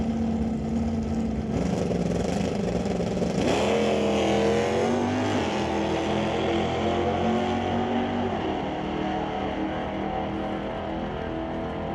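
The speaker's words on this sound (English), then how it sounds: "1972 Chevelle. 408 cubic inch LS combination," A 1972 Chevelle drag car with a 408 cubic inch LS engine races at a drag strip, its loud steady engine drone sweeping upward through gear changes and fading slightly as it pulls away; no talking.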